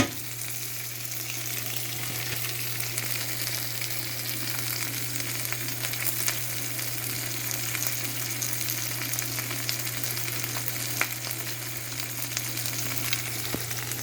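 Meat and grilled cheese frying in butter in a pan give a constant close crackling sizzle. The hiss is even and unbroken, with small pops scattered through it and no talking.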